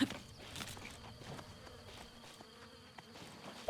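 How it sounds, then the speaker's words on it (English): A swarm of bees buzzes in Zelda: Breath of the Wild, a steady droning hum under footsteps and scattered rustling and impact sounds, moderately loud and close throughout. "Bees!"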